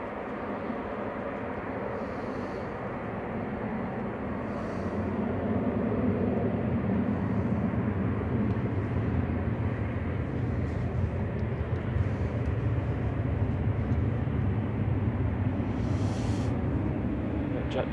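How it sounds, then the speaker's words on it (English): Jet2 airliner landing at Manchester Airport, a continuous broad roar of engines and rushing air at moderate distance, swelling slightly louder partway through and holding steady. "Jet 2 just landing, and then after that it's the A380."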